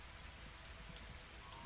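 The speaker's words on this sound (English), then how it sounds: "you notice that it is absolutely lashing it down with rain" Heavy rain lashing down outdoors during a storm, a dense, steady hiss of downpour that stays loud and even throughout, with no voices.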